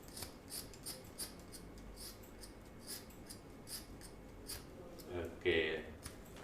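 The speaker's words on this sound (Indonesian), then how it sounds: "Digunting begini." Soft, regular snips of scissors cutting through cloth during preparation of a body for burial, close and quiet, with a louder scrape near the end; a voice speaks quietly in the background.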